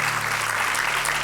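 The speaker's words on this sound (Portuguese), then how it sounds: "Um aplauso para o Carlos" Studio audience applause on a Portuguese afternoon TV talk show, a short burst of dense, steady clapping at moderate loudness with no talk over it.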